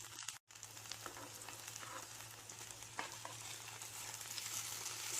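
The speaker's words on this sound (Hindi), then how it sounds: "देखिए ये अच्छे से फ्राई हो रहे हैं।" Spiced fish fries in a pan over a medium flame, giving a continuous soft sizzle and crackle with a low hum beneath and a brief dropout near the start; no voices.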